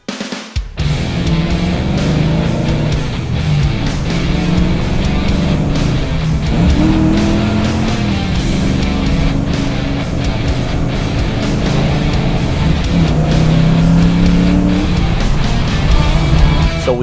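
A 1993 Ford Mustang Cobra Fox-body driving hard, its engine droning loud and steady with rising and falling pitch as it accelerates, continuous and close throughout.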